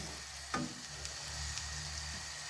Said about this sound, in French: on va laisser la viande mijoter un petit peu